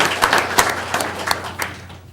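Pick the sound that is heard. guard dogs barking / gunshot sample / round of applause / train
round of applause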